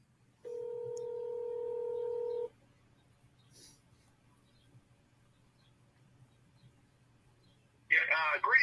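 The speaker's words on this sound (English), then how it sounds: "So we can hear the phone ringing." A telephone line on a call-in show sounds two long steady ringback tones, followed by a faint pause, a brief blip and then a voice starting to talk at the end.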